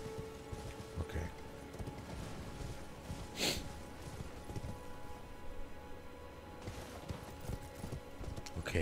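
Hooves of a horse clip-clop steadily across ground in Elden Ring, a fairly close rhythmic thudding with a brief snort, as a player talks quietly over the game sounds.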